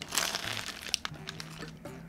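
Someone bites into a large, warmed nutty croissant at a Starbucks in Korea, producing close, soft crackling and flaky crunching over about two seconds, with one sharper crack.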